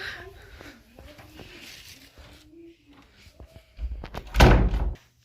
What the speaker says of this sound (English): I can shut the door